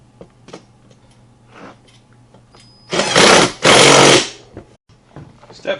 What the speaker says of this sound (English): Install the nut and tighten it up.